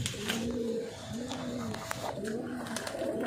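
Pigeons kept for sale coo softly in a slow, repeated rhythm, three low rolling coos in a row. Faint background noise and a few small knocks sit underneath.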